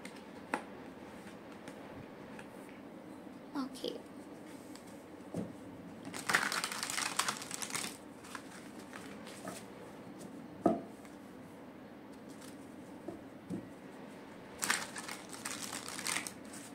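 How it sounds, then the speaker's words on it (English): Tarot cards are picked out of a deck and arranged by hand, with soft crinkling shuffles and light snapping card sounds in brief bursts, close and quiet, with no voices. "So I will be picking out cards from the Prince Tarot. I'll arrange these cards."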